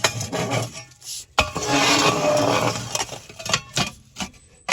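A stone village oven with a holed stone centre, fired from below, is scraped clean in close, gritty rasping strokes that come in bursts with short pauses between.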